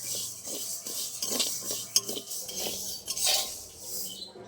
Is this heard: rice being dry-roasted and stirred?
yes